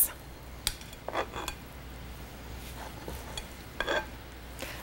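A utensil mixes cubed leftover corned beef into an egg roll filling, giving soft scraping and occasional clinks against the bowl, close by and fairly quiet, with no voices.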